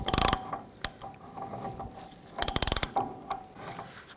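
A socket wrench ratchets while tightening the rear hub nut on a 1999–2007 Chevy Silverado 2500, with rapid bursts of close, crisp clicking at the start and again midway, and scattered single clicks between.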